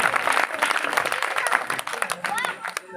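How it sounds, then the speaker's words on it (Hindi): Applause from the audience at an outdoor Ramlila stage performance of the Ashvamedha yajna episode, a dense wash of clapping filling the whole stretch, with voices mixed in. "जोरदार तालियां।"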